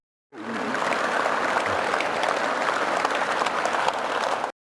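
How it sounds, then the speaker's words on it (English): Crowd applause starts abruptly, holds as a thick, even wash of clapping for several seconds, then cuts off sharply. "All right, slow clap."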